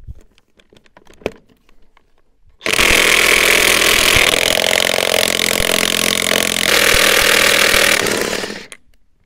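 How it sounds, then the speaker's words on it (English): Impact wrench driving a chrome socket on a rusty Bobcat skid-steer wheel, a loud sustained rattling whir of about six seconds after a few quiet clicks, running alone at close range. "Use a chrome socket on an impact."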